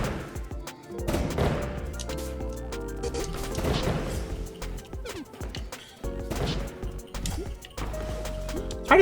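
Repeated bomb blasts from the platformer Bombun thump and crash in quick succession over steady game music, each explosion sharp and punchy and landing close together across the stretch.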